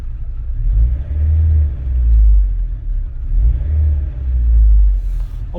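A Rover 216 GTi engine runs while warming up, heard up close as a low, rough rumble that swells and fades in slow uneven surges, with no talk.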